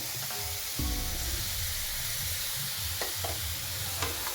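Coconut barfi mixture of grated coconut, sugar and half a cup of milk being stirred in a pan, a steady soft bubbling sizzle with spoon scrapes and knocks against the pan, close and alone.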